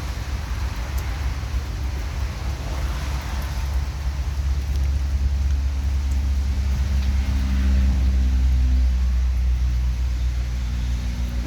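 Heavy rain pours outdoors onto a freshly washed car, making a steady, dense hiss over a deep continuous rumble with no pauses.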